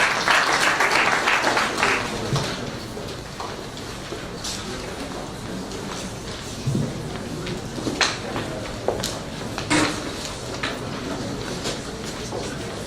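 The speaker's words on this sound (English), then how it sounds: "Can we give him a round of applause?" An audience at a builders' conference technical session gives a round of applause, a loud burst at first that thins into scattered claps with some shuffling and background talk.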